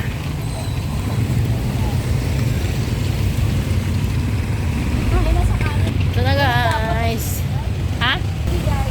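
Steady rain hiss on the way to a market in Taytay, a dense constant wash with traffic rumble underneath and voices talking briefly near the end.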